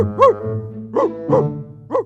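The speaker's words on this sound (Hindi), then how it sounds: "उठकर भौंकने लगा" A dog barks four times in quick, uneven succession, close by and fairly loud, with short yelping tones.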